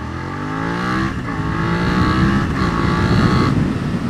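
Engine revving up as a 2016 Suzuki SV650 motorcycle accelerates toward 60, pitch climbing steadily with gear changes, loud and close with wind rush.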